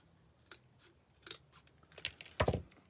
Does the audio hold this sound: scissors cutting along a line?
yes